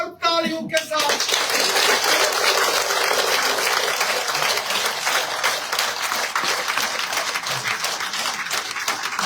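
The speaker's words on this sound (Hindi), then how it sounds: "जोरदार तालियों के साथ" A crowd at a political party office joining event gives loud, sustained applause, dense clapping filling the whole stretch after a brief opening moment.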